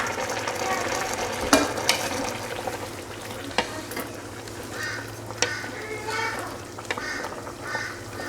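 A mixing spoon gently pushing rice pulao in from the edges of a silicone pot, soft irregular stirring and scraping with a few sharper clicks, close and fairly quiet, with no talking.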